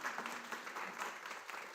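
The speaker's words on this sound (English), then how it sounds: "your hands are going to be tired from clapping so much" Steady audience applause at an environmental bill package announcement, a dense wash of many hands clapping continuously with no pauses, moderately distant and filling the room.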